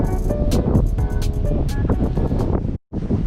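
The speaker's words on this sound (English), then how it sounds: "It is windy as crap." Strong wind buffeting the microphone on a Hawaii beach during a camping and fishing trip, loud, gusty roaring with surf underneath and a brief drop to near silence near the end.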